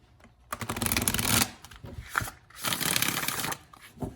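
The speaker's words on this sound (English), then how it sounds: "As far as the shuffle is concerned, I like to do a bridge shuffle." Two riffling card shuffles whir close up, each lasting about a second, followed by soft taps of the deck being squared between them.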